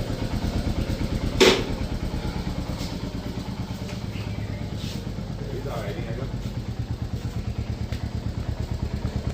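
A Jawa motorcycle engine thumps at low speed with an even, pulsing beat during a group ride, joined by a brief louder burst early on and faint voices.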